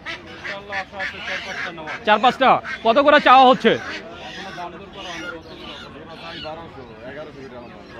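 Domestic ducks honk and quack in a loud cluster at a traditional village market near Fatullah, Narayanganj, with people talking over and around the calls.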